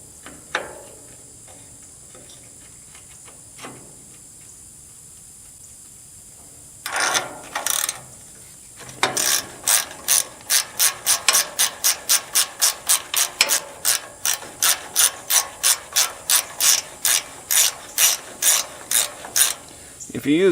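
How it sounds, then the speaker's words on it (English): Crescent wrench ratcheting a nut loose on a hay loader tension bolt, quiet at first, then a long run of rhythmic metallic clicks, steady and close. "So got a crescent wrench. We'll put it on the back side of it here."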